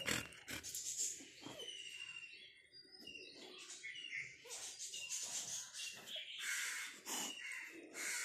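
Crows cawing in a loose series of harsh, fairly close calls, with fainter chirping birds mixed in and no one speaking.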